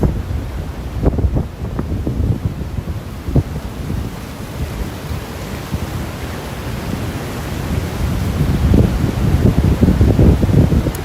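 Water washing and lapping continuously at the Ballard Locks in Seattle, with wind buffeting the microphone and the surf swelling louder toward the end.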